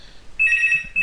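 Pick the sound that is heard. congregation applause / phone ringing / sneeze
phone ringing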